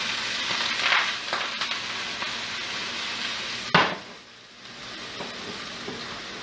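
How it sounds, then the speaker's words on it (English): Onions frying in a pan without butter give a steady, close sizzling hiss throughout, broken once by a sharp metallic clank of a utensil before the sizzle settles again. "Onions in the pan, let them get going."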